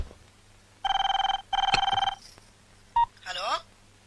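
A telephone in a Telugu comedy film scene gives two loud electronic ring bursts, each under a second long, followed by a short beep and a brief voice.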